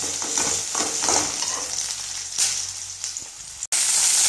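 Chopped tomatoes frying with curry leaves in a pan for a chow chow koottu, giving a loud continuous sizzle with stirring scrapes throughout, ending in a brief cut before the hiss resumes; no voices.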